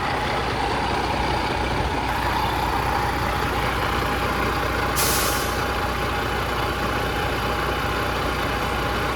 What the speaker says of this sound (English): I don't think that fan should be running right now